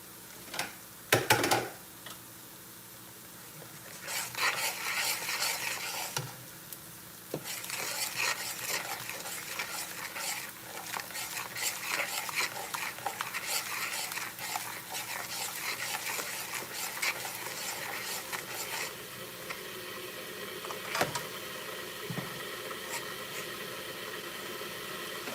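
Curry chicken and potato being stirred in a pan, a steady scraping and shuffling with a soft sizzle underneath, a few sharper utensil knocks near the start and toward the end, no talking.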